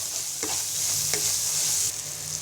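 Spice paste with garlic paste and ground cumin sizzles steadily in a pan at close range, with a couple of spatula scrapes and taps as it is stirred.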